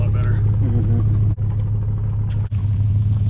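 A vehicle idling and rumbling steadily up close while moving a trailer at a shop, a constant low engine drone with two brief cuts, as a voice speaks over it.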